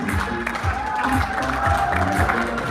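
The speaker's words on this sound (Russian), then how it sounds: "Аплодисменты! Золотому голосу якутской эстрады" An audience in a concert hall applauds a singer at a Christmas concert, sustained dense clapping with a hum of crowd noise running steadily throughout.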